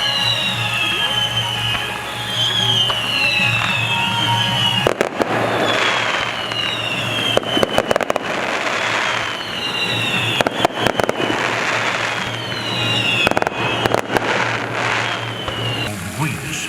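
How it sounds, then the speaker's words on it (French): Fireworks and firecrackers burst at Vaux-le-Vicomte château during a 17th-century-style celebration: repeated sharp cracks and crackling volleys over a steady whistling, humming backdrop, loud and close. "D'autres formes de pétards, ou quelque autre effet de cet art."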